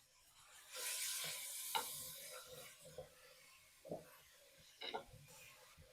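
Chopped vegetables for a cheese mixed-vegetable samosa filling sizzle softly in a pan, a quiet frying hiss broken by a few stirring scrapes, close and faint with no talk.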